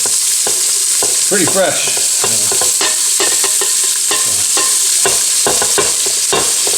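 Medium yellow onion sautéing in an Instant Pot, a steady sizzle with spoon stirring and scraping throughout, loud and close, with brief talk over it.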